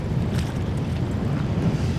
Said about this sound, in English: these winds are becoming gale force